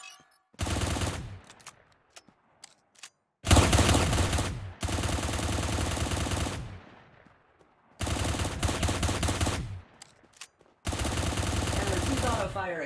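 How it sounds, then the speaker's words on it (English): Automatic weapon fire in the mobile shooter Cyber Hunter, heard in four loud sustained rapid-fire bursts separated by short pauses, close and dominant with no talking. "All you need to do now is position your crosshair over the enemy to fire your weapon."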